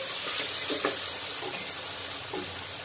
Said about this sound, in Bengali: এর মধ্যে আমি মাছটা দিয়ে আগে একটু মাছটা কষিয়ে নিচ্ছি